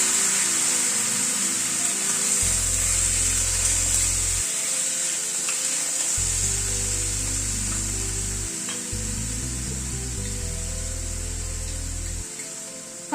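Boiled kabuli chana frying in a pan for a chana and tomato curry, giving a steady, close sizzle with soft stirring scrapes that runs throughout, with no talk over it.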